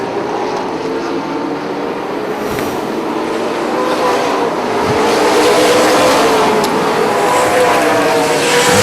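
Super late model race cars at a short-track race, a loud, continuous roar of several engines sweeping past and swelling toward the end, with a crowd and announcer audible faintly beneath.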